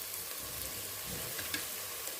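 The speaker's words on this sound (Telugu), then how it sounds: "మసాలా చెక్క అవన్నీ పచ్చి తీసుకున్నాం కదా, ఫ్రై కావాలని ముందే వేసేసాం. ఇప్పుడు బిర్యానీ ఆకు వేస్తున్నాం." Whole spices and a bay leaf fry in hot oil for biryani, giving a soft, steady sizzle with faint crackles throughout.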